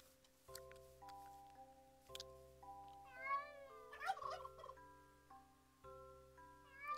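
Minecraft cat meowing over steady tonal game music, a few short mewing calls clustered near the middle, faint and small against the music, with no talk.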